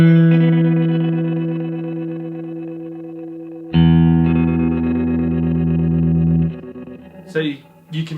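Flamma FS03 digital delay pedal running its arpeggiator mode, a played chord repeating in stepped octave jumps with distortion and echo, sustaining for several seconds, restruck loudly midway, then breaking into short glitchy bursts at the end.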